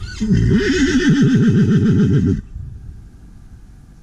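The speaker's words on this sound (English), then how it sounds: "It's pretty common for horses to call out when they're out on a ride" A horse whinnies loudly and up close while out on a ride, a long wavering neigh of about two seconds that cuts off, leaving quiet outdoor background.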